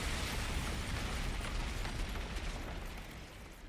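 A character self-destructs in a video game, setting off a loud, dense explosion that roars and rumbles across the whole clip and then gradually thins out.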